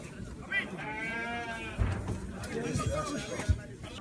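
A white ram bleats at a livestock market, its harmonic, wavering cry rising over crowd noise and talk, followed by a few thuds and shorter animal sounds nearby.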